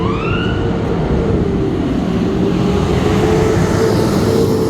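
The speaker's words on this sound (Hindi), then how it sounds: "ये फायर ब्रिगेड की गाड़ी है" A fire brigade truck's siren wails along a Toronto street on Danforth Avenue, its rising and falling tone steady and fairly loud over a constant roar of city traffic.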